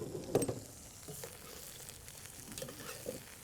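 Mushrooms and onions frying in a pan outdoors, a soft sizzle with a few stirring clatters near the start, fairly quiet throughout.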